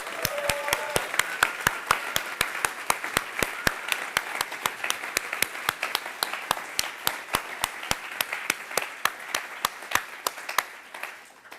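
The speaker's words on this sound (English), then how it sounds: "A huge round of applause." Steady, dense applause from a crowd, many hands clapping continuously for several seconds before gradually thinning out near the end.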